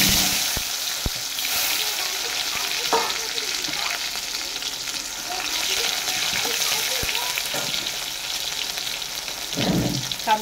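Chopped onion fries in oil in a pan after fish has been fried for a Bengali mustard dish, with a continuous loud sizzle, scattered spatula clicks and stirring scrapes.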